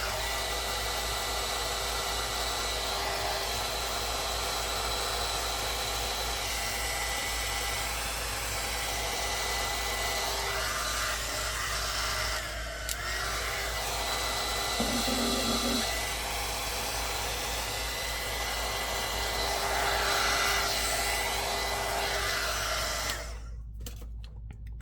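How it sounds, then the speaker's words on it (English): A hot heat tool blows over junk journal pages in a constant, close, loud whooshing drone that holds steady for over twenty seconds before cutting off near the end. "I'm gonna use my hot tool again"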